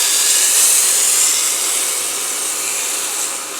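Loud, steady hissing crackle fills the whole stretch, the broad sizzle of salt-and-pepper-seasoned pork searing in a hot pan, close and unbroken with no talking.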